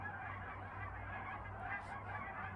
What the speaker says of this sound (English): there is a massive flock of geese coming this direction